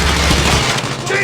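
Gunfire in Call of Duty Mobile rattles as a loud, dense volley of rapid shots and booms. It fills the first half before easing into a fainter, scattered tail.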